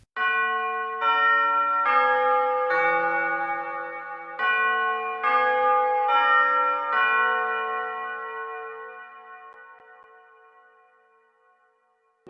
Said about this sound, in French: Le célèbre air du carillon, qui marque l'heure, est appelé Westminster Carter.